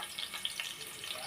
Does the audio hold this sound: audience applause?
no